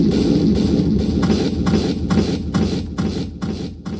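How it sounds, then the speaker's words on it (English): A kick drum in an electronic music track, run through a delay effect, thumps in a steady low rhythm with echoing repeats that blur into each other. It plays loud and alone. "that's just a delay effect."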